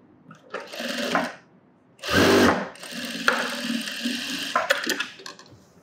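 A sewing machine stitches the shoulder seam of a sleeveless top in several short bursts of fast whirring and clatter with brief pauses between them, close and fairly loud.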